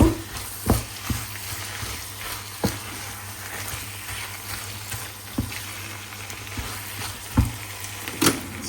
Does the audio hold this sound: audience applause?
no